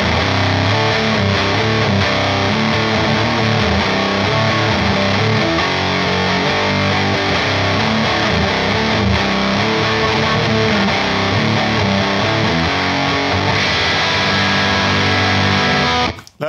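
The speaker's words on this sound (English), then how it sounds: "It's a nice gated sort of bit crush sound." A gated, bit-crushed distortion with delay from a MOD Audio Hip2B fuzz and bit crusher, a dense, loud, gritty wash of chopped, crunchy tones running continuously for about sixteen seconds before stopping abruptly.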